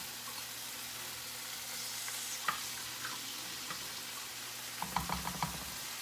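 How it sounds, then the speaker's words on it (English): Onion sizzles in a pan, a constant hissing fry heard up close, with a few light utensil knocks and taps, some clustered near the end, and no one speaking. "I'm going to put a little bit more onion in here"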